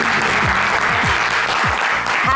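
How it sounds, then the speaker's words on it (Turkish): Steady, loud audience applause fills a Turkish TV cooking-show studio during a festive holiday episode, a dense wash of clapping running unbroken throughout with a faint voice beneath. "Yılmaz Erdoğan'ı ve bütün ekibi ve sizi alkışlıyorum."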